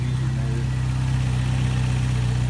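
A 1987 Toyota 4x4 pickup with a turbocharged 22RE-T engine idles steadily and evenly, a close, continuous low rumble with no revving and no voices.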